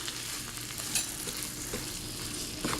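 Food sautéing in a pan for a steak omelet, a steady close sizzle and fry with a few soft utensil scrapes as it is stirred now and then, no voices.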